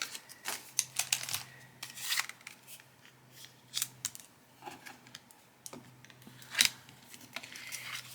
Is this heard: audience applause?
no